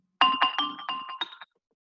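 A short, bright electronic birthday jingle from Scratch of several quick chiming notes plays for about a second, then cuts off into silence.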